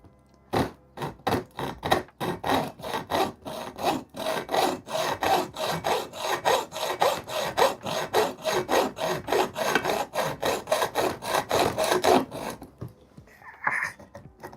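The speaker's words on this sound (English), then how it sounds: "This hacksaw blade is very aggressive." An aggressive hacksaw blade rasps back and forth through material in steady, rapid strokes, loud and close, for several seconds before stopping.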